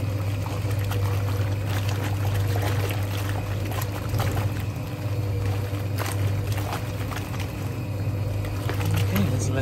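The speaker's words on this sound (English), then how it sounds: "We're going to have a lot of splashing around here" Vintage 1950s Hoovermatic twin tub washing machine churning and splashing water, a steady sloshing wash with a continuous motor drone underneath, close and unbroken for the whole stretch.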